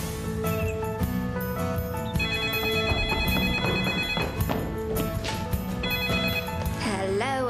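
A telephone rings indoors in a repeating electronic trill, set against layered background music with a sweeping tonal flourish near the end and no clear speech.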